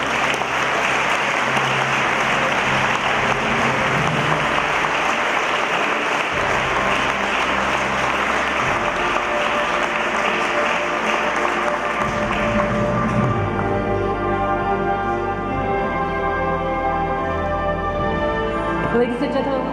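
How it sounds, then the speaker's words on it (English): Sustained crowd applause fills the air at the grand opening ceremony of an aircraft engine service center, a dense, even wash of clapping continuing loudly for the whole stretch with some faint background voices. "Let's have a round of applause for this success."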